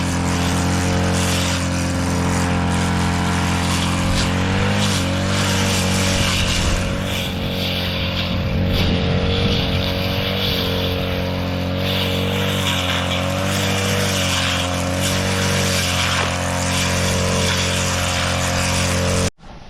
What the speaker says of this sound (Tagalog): mabilis nga po ang ating pagagrass cutter